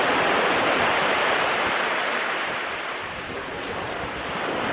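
Ocean surf on a beach in Maui, Hawaii, a steady loud wash of breaking waves with wind buffeting the microphone and no voices.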